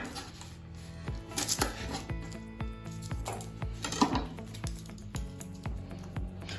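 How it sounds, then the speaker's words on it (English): A red onion is peeled with a knife on a board, giving a run of close, sharp taps and clicks at an uneven pace over a faint steady background tone. "I wanna peel it first"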